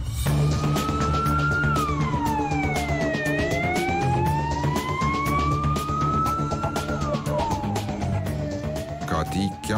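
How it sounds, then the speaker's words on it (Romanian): An ambulance siren wails nearby, its pitch sweeping slowly up and down in long cycles over a rumbling vehicle, loud and continuous throughout. "Cati cheamă salvarea care îl duce imediat pe Sebastian la spital."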